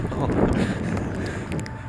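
Wind from a Chicagoland snow shower buffets the microphone outdoors as a low, muffled, rumbling roar with uneven gusts, steady for the whole moment.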